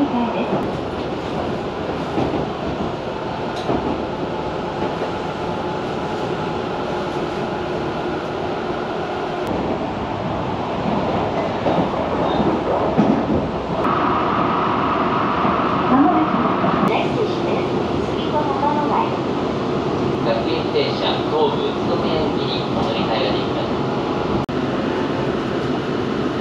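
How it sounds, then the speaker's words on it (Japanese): Rolling rumble of a Tobu line commuter train bound for Minami-Kurihashi in Saitama, heard from inside the carriage, steady and loud with rail clatter and brief shifts, as a voice talks over it. "この電車は南栗橋行きです。"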